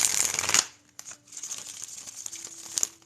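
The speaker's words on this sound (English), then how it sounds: "We cut the deck. We let it rest. We keep shuffling." A tarot card deck is shuffled up close, with a dense burst of riffling cards, then softer intermittent shuffles and light flicks over a quiet background hum.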